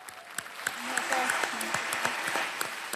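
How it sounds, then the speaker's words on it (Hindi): Studio audience applause on the Kaun Banega Crorepati quiz show, a steady wash of clapping throughout, with someone speaking over it. "तालियों के साथ हम इनका अभिनंदन करते हैं।"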